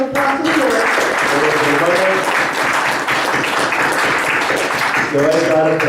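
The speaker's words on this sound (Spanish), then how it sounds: "Así que vamos a darle un aplauso al Señor." A church congregation breaks into loud, sustained applause during a service, with voices speaking over the clapping at the beginning and end.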